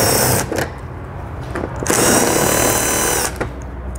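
Power tool with an 8 millimeter socket removing bolts during a trailer hitch install on a 2020 Chrysler Pacifica: close, loud whirring bursts, a short one and then a longer one, over a constant noisy background.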